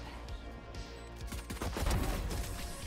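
Rapid gunfire bursts from the tactical shooter Valorant crackle over a busy game mix, dense clusters of shots swelling louder toward the middle before easing off, with no talk over them.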